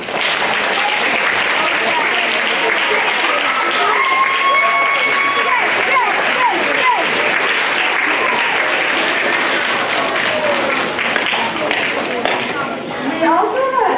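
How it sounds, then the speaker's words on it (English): Audience at a spring school instrumental concert gives sustained applause, a broad, even roar of many hands clapping with some crowd voices and cheers mixed in, lasting the full stretch. "So let's give everybody that has helped support all these young musicians a big round of applause."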